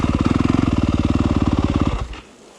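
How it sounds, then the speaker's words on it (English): A 2021 Yamaha YZ250F dirt bike engine runs with a loud, rapid, even pulsing beat for about two seconds, then cuts out abruptly, leaving a quiet tail. "YZ250F definitely's got a little more lively engine response"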